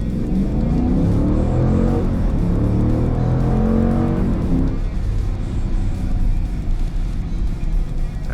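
A 2021 Dodge Durango R/T launches hard from a standstill in sport mode with traction control on, its engine roaring loud and close as revs climb through rising gear pulls before easing off around the midpoint.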